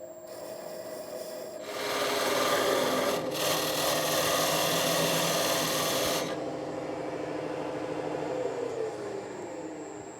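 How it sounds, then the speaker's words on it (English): A wood lathe spins a nightstand part while a steel rule is held against it to mark lines, giving a steady rasping scrape that swells loud for several seconds and then eases to a quieter hum with no talking. "turn the lathe on very slowly, and make the line all the way around"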